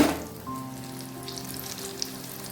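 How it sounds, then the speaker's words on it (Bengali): Stuffed bitter gourd and teasel gourd fritters (pur bora) fry in oil with a steady, even sizzle and a few soft pops throughout. "আর এদিকে পুর বড়াগুলো ভাজা হচ্ছে।"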